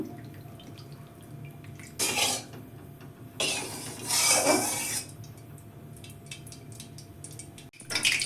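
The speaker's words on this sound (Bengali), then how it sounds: "কড়াতে তেল দিলাম" Oil is poured into a kadai (wok), giving two bursts of splashing, trickling pour sound amid soft kitchen clatter and a few small metallic knocks.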